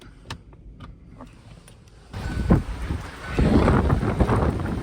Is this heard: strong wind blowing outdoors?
yes